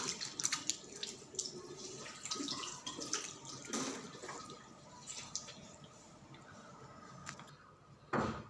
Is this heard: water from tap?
yes